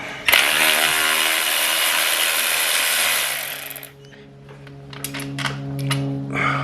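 A power tool whirs loudly for about three seconds as it backs bolts out of a 2020 KTM 300 XC TPI motorcycle. It winds down, then a few short ratcheting clicks and tool clatter follow nearby.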